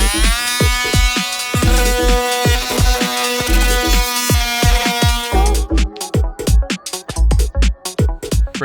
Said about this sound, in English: I had to use the multi-tool to cut out some of this wood